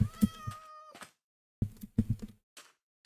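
A cat in Minecraft meows in short repeated bursts, a few close, clear cries separated by brief silences, with a small thunk.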